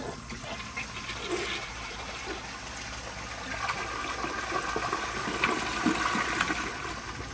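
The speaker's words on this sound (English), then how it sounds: "Here is a flush." A 1978 yellow Kilgore Apex toilet flushes in a small room, a steady rush of water that grows louder and fuller toward the end.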